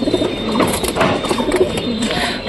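Pigeons in a home loft with nesting birds and newly hatched chicks coo in low, throaty, overlapping calls, steady and fairly close over a constant background hum.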